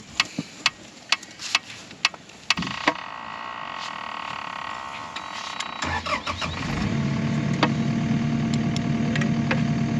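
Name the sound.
skid steer engine starting and running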